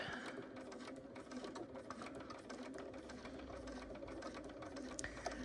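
A sewing machine runs steadily while stitching a pencil case, its motor whirring at an even, close-up level throughout with a fine rapid needle rhythm.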